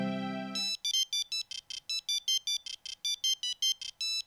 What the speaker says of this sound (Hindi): कोपा दीदी का नाम लिया और कोपा दीदी का ही फोन आ गया